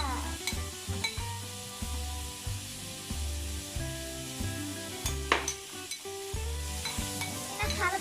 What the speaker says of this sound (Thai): เราจะใส่เนื้อสับเข้าไป